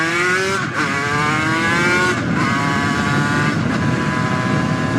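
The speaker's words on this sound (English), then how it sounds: "Lovely little rush of two-stroke power there." Langen two-stroke motorcycle accelerating hard through the gears, its buzzing engine note climbing in pitch with brief dips at each quick shift, loud and close with no talk.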